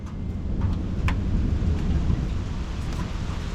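Heavy rain pours steadily during a thunderstorm while deep thunder rumbles and cracks roll through, loud and close, with no voices.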